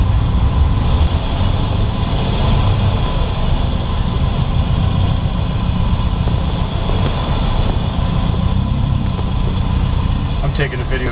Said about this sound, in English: driving the Studebaker. I'm just running around the block once